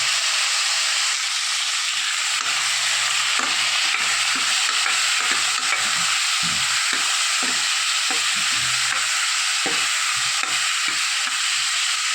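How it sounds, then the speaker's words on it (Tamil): Tomatoes and green chillies sauté for sambar in a hot pan, a steady loud sizzle and hiss running throughout with repeated stirring scrapes and clicks of a spoon against the pan. "போட்டு நல்லா வதக்கணும்."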